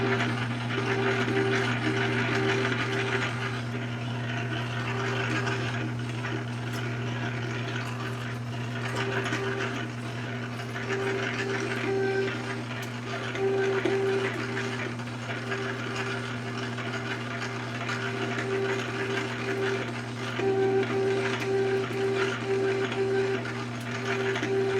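A machine tool makes a slow interrupted cut across a notched engine cylinder head, a steady mechanical drone and hum with faint repetitive clicking and chatter running throughout, close and unbroken with no voices.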